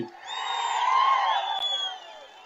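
A rally crowd at an open-air political public meeting in Penukonda cheers loudly and steadily, with shrill whistle-like tones ringing above the roar for a couple of seconds.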